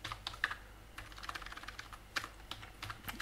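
Code is typed on a computer keyboard in quick, irregular bursts of light key clicks, close by and fairly quiet.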